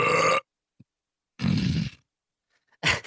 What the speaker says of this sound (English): when you belch